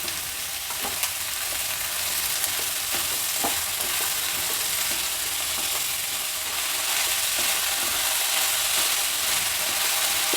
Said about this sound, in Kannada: ಹೈ ಫ್ಲೇಮಲ್ಲೇ ಇಟ್ಕೊಂಡು ಚೆನ್ನಾಗಿ ಹುರಿಬೇಕು ತರಕಾರಿಗಳೆಲ್ಲ ಸಾಕಷ್ಟು ಫ್ರೈ ಆಗಿಬಿಡುತ್ತೆ